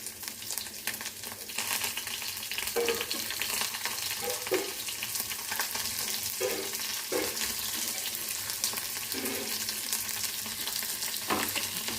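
Onions frying in a pan for cabbage curry with moong dal give a steady close sizzle, with soft scraping stirs now and then and no talk.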